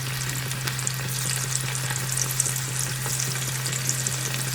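Chicken pieces for pickle sizzle in hot oil over a medium flame, a steady, close crackling fry with occasional stirring, no voices.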